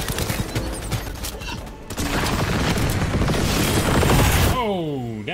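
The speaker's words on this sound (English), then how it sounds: "Damn, that's some good explosions." Cyberpunk 2077 gameplay combat with explosions and smart-grenade blasts: dense booming, crashing bursts that swell louder midway and continue steadily, ending with a whooshing, descending sweep.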